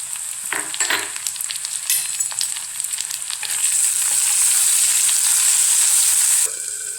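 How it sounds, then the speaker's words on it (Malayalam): Onions and tomato frying in a pan for fish egg curry, a steady loud sizzle with occasional stirring scrapes that grows into a bright, sustained hiss in the second half. "ഉള്ളി നന്നായിട്ട് വഴന്നു വന്നു കഴിഞ്ഞാൽ അതിലേക്ക് അരിഞ്ഞ് വെച്ച് തക്കാളി ചേർത്ത് കൊടുക്കുക."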